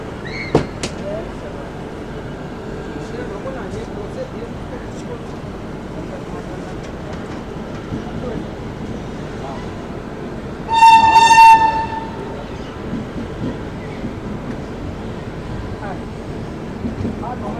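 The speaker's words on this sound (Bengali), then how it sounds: "সিগন্যাল দিয়ে দিয়েছে, ট্রেনও হর্ন দিয়ে দিয়েছে।" Passenger express train (Kumbha Express) sounds a loud, sustained horn blast mid-clip over steady rumble and clatter of rolling stock, with a faint earlier horn and continuous background noise.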